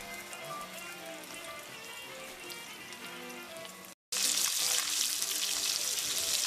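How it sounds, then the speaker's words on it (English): A pork porchetta sears in a preheated pan of hot olive oil and butter, giving a bright, crackling sizzle that runs steadily, then surges louder and hissier after a brief cut. "it's off to the pan for a quick sear. As usual, preheated pan, olive oil, and butter"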